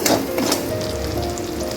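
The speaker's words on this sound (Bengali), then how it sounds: "দিয়ে দিলাম সামান্য পরিমাণে কাশ্মীরি রেড চিলি পাউডার। ভালো করে একটু নেড়ে নেব।" Spices with Kashmiri red chili powder stirred in a frying pan for a yogurt katla fish curry: a brief sizzling hiss with a couple of quick scraping strokes near the start, no voices.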